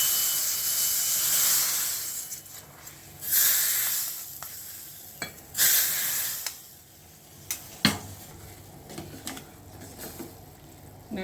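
Ground cumin and fenugreek powder hits hot oil for a tomato rasam tempering, bursting into a loud close sizzle that fades and flares again in waves, with clinks and taps from a spoon or pan; no talk.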